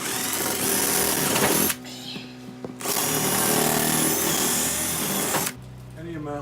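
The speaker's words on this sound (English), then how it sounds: "The swivel cuts the rivet quick and hopefully keeps it from spinning in the hole." A power drill fitted with a swivel bit cuts out rivets on a step van, two loud sustained whining bursts separated by brief pauses.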